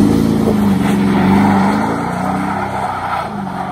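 A 2019 Toyota Tundra with a Flowmaster exhaust gives off a steady, loud, droning rumble with no break. Its pitch rises and dips a little over a few seconds, and no voices are heard.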